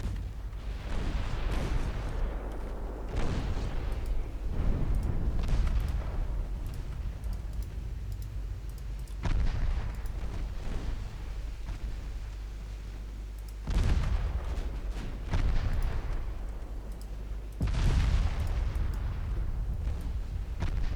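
Naval 3-inch guns fire in a video game, heard as a series of booming, rumbling shots spaced a few seconds apart over a low continuous engine drone, with faint clicking between them.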